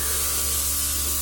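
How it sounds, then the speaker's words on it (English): Luminess Air matte airbrush foundation sprays from about eight inches away as a steady, continuous hiss with a low machine hum underneath, close and unbroken. "About 8 inches, and I'm just spraying lightly"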